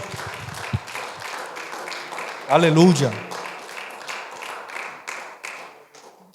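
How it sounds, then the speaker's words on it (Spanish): Congregation applauding during a church sermon: a steady patter of clapping runs throughout under a preacher's voice, with a brief louder spoken exclamation in the middle. "Alguien puede brindar un aplauso a la presencia de nuestro Dios."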